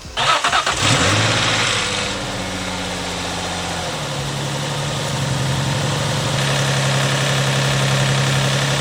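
An Infiniti G35 coupe engine with a Kinetix Velocity intake manifold cranks and catches after battery reconnection, then settles into a steady idle with a slight rise in revs, close by and alone.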